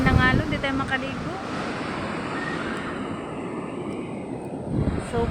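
Large waves wash onto a beach with a broad roaring rush, and gusty wind buffets the microphone; a voice speaks briefly at the start over the surf.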